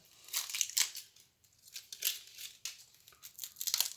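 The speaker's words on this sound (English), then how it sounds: "First, you gotta peel it." An onion's dry papery skin is peeled by hand, giving bursts of close, crisp crackling and tearing separated by short quiet gaps.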